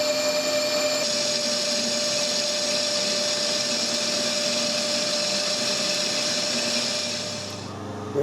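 A lathe or machine tool running steadily while taking a moderate cut on a steam engine cylinder cover, a loud continuous whine and hum with a slight shift after the first second, winding down at the end.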